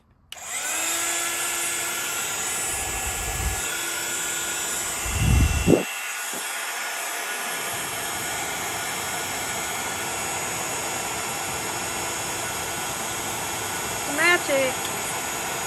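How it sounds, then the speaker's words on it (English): Plugged-in heat gun running for a craft project, a steady loud whooshing fan-and-air hiss held throughout, with a few brief low bumps and handling noises, and a person talking over it in places. "Luckily, I already have my heat gun plugged in, so apologies for the noise."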